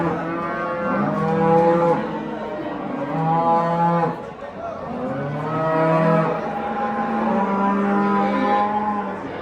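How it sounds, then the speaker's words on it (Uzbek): A cow at a livestock market moos repeatedly, long drawn-out lowing calls one after another, loud and close, with little else around. "Mana sigirimiz do'stlar"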